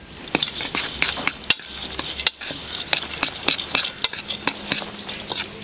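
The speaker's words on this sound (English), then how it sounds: "Then we will stir it together." A utensil stirs dry baking soda and baking powder in a bowl with repeated sharp clicks and scrapes against the sides, close and uneven in rhythm.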